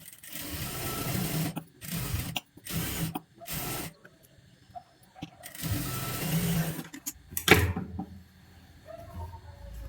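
A sewing machine stitches the lining of a blouse in short close bursts of rapid mechanical whirring, separated by pauses and a few soft handling clicks.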